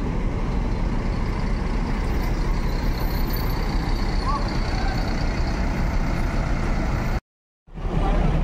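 A Sembodo intercity bus with new livery departs, its heavy engine droning loud and steady close by, with a faint hiss and brief background voices before the sound cuts out abruptly near the end.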